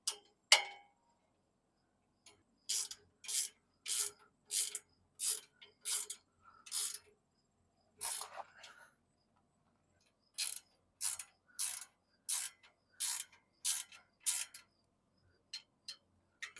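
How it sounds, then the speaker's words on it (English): A ratchet wrench clicks in quick bursts of short strokes, close and crisp, while tightening 9/16 bolts on John Deere tractor cab steps, with short pauses between the runs of clicks. "Now from here, it's just tightening things down."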